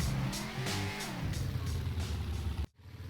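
A car driving in the video game Infestation, its engine humming loudly and steadily with rhythmic surges for a few seconds before cutting off abruptly near the end.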